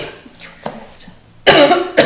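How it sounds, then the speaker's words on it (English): A few soft throat sounds, then a loud, harsh cough up close, followed by another cough starting at the end. "Sorry, I'm going to cough."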